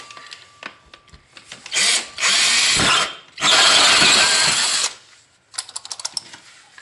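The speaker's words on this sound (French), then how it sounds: "On fait d'abord un petit avant-trou, on enlève l'ensemble et on se méfie parce que souvent derrière il y a d'autres gaines qui passent." A power drill bores a small pilot hole into a wall for an electrical socket. It runs in two loud, close bursts of a few seconds each, followed by a few sharp knocks and clicks.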